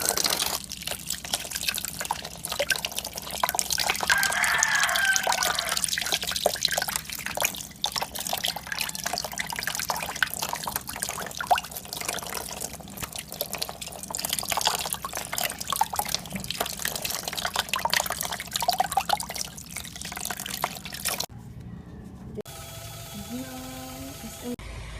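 A soursop is washed under running water, a continuous splashing tap stream with rattling handling noises close by, lasting about twenty seconds before it abruptly stops and only quiet room sound remains.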